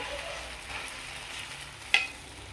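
Beaten egg hits hot oil in a pan over a medium flame, giving a soft, continuous frying sizzle with a brief sharp tick near the end.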